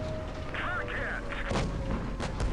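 Tank cannon fire in World of Tanks Blitz, with an IS-6 and KV-1S among the tanks: a couple of sharp, loud cannon reports under steady battle noise, with a voice talking over it.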